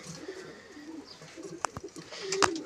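Andra pigeons in a loft give soft, low coos over faint background noise, with a couple of sharp clicks or flutters and a louder burst near the end.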